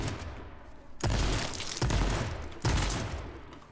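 Explosions or heavy gunfire bursts in the H1Z1 battle royale game, three sharp loud booms each followed by a long rumbling decay, with no voices.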